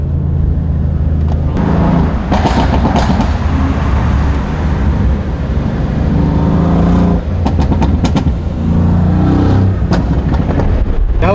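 A Mercedes C63 AMG drives and accelerates hard on a road course. The engine note is loud and close, with repeated surges of revving, and a voice speaks briefly over it.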